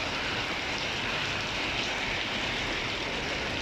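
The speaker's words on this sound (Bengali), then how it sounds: "ছুটির দিনে খুব বৃষ্টি হচ্ছে।" Heavy rain pours down in Singapore city in a dense, unbroken hiss, loud and steady throughout with no voices.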